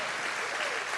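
Audience in a conference hall applauding, a dense, steady wash of clapping throughout the short stretch with no voice on top.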